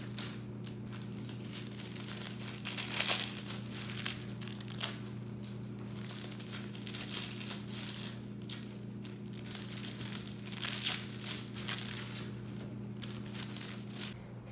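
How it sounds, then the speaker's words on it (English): Green tissue paper being torn into small pieces by hand for a Luna moth craft, with soft crinkling and ripping bursts over a steady low background hum. "ripping off little pieces of our green tissue paper"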